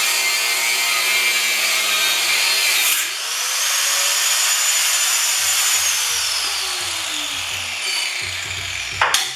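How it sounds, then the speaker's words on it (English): Angle grinder cutting off tack welds on a car chassis during a rear independent suspension swap on an El Camino, a loud steady high-pitched metal grinding whine that dips briefly as the tool is repositioned, with no talk. "but just keep grinding."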